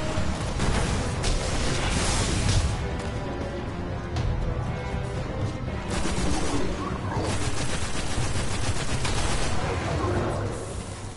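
Rapid gunfire and heavy blasts from a rocket launcher in the game Destiny, a dense, continuous barrage lasting throughout, with a voice talking over the shooting now and then.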